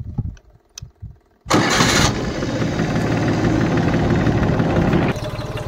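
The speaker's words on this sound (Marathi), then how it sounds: "ट्रॅक्टर सुरू झालेला आहे, त्याची फायरिंग तुम्ही ऐकू शकता." A Farmtrack Atom 26 4WD mini tractor's diesel engine cranks and catches at once, settling into a loud, steady close-up idle clatter after a few quiet knocks and clicks beforehand.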